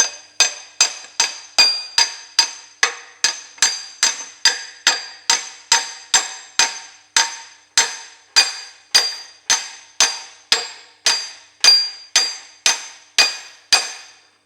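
A hammer drives the input shaft bearing into an MF135 tractor six-speed gearbox: about two dozen sharp, ringing metallic blows at a steady rhythm, close and clear with nothing else heard.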